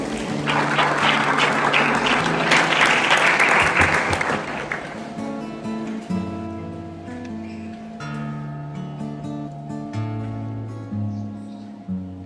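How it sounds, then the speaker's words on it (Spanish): Loud audience applause fills a church centenary celebration in Calabozo, a dense clapping burst that swells and then fades into organ or keyboard music with sustained tones. "Lo recibimos con un fuerte aplauso."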